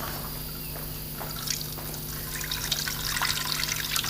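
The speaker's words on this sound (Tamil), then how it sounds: "இந்த வாட்டரை வந்து இதில் ட்ரான்ஸ்ஃபர் பண்ணுறோம்" Tea water being poured from one container into another, a soft continuous trickle and drip of liquid, close and fairly quiet, with light splashes building slightly toward the end.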